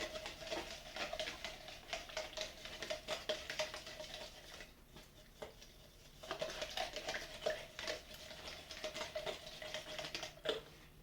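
Dark brown paint stirred in a container while painting a custom Scarecrow mask from Batman, a steady busy scraping and tapping patter of a stick against the container's sides, close and moderately loud, with no talking.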